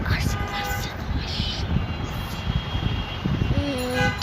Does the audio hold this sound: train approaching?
yes